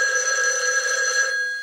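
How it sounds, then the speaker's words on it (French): Telephone bell ringing during a stage play, Luigi Lunari's Fausse adresse: a single sustained, bright electronic ring with strong tonal harmonics, loud and alone, fading slightly at the end. "Le téléphone sonne."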